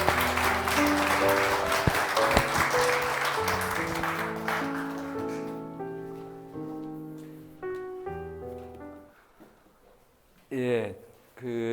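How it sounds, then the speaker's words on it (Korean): An audience at an urban regeneration festival lecture claps to welcome the speaker, applause blending with loud introductory music that fades out, followed by a brief voice near the end. "큰 박수로 맞이해 주시기 바랍니다."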